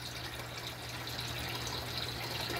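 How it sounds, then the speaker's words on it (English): A submersible pump pushes water through a DIY fish tank filtration setup, giving a steady trickling, splashing flow with a low constant hum beneath, and no talking. "as you can see, from the water is being pumped by this pump, submersible pump, goes up."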